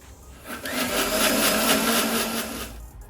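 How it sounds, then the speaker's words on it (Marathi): A mixer grinder grinding kidney beans into a paste whirs loudly for about two seconds, starting and stopping abruptly, with a steady high-pitched motor drone and nothing else. "थोडासा 1 चमचा आपण मिक्सरला बारीक पेस्ट करून घेऊ"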